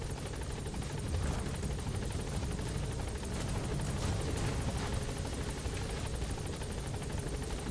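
A helicopter in the Metal Gear Solid V video game drones steadily throughout, with a loud, continuous rotor roar and a faint rhythmic blade chop, heard alone without any talk.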